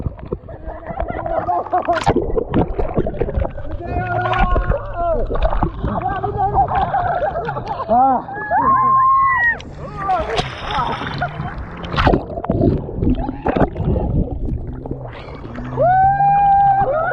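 A small boat rocking and tipping over on the sea at Ganapatipule beach, with water splashing and sloshing and people shouting and squealing over the surges.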